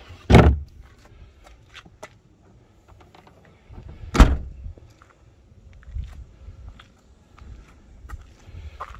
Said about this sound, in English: We'll open the boot up